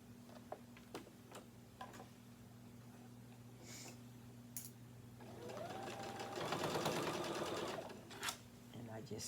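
A home sewing machine stitches the side seam of a fabric tote bag, its motor whirring in a steady run that swells louder partway through, with light ticking and clicks around it and a voice speaking briefly.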